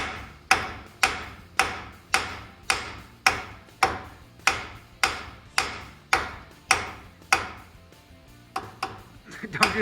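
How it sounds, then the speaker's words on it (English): A hammer strikes a truck tie rod on an S10 pickup in a steady series of sharp metallic blows, about a dozen evenly spaced hits, then a short pause and a few quicker, lighter taps; the blows are loud and close, with no talking. "we'll smack it with a hammer"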